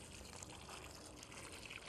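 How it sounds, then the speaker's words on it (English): Water pours into dry concrete mix for casting a garden bench, a quiet, steady trickling flow that stays faint throughout without any talking. "We'll go ahead and start adding water to it."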